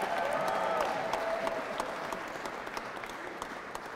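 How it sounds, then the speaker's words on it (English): Crowd applauding at a political speech by a county mayor-elect, steady broadband clapping that is loudest at the start and slowly thins out over four seconds, with a faint voice tone near the beginning. "we can give her a round of applause"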